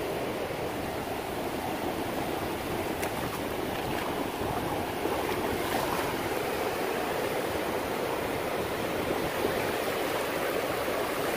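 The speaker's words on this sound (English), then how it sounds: "Wait for the next wave." Ocean surf washes continuously onto a fishing beach, a dense, steady roar of breaking waves and rushing foam with no distinct pauses, fairly loud and with no voices.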